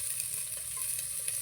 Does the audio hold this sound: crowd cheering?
no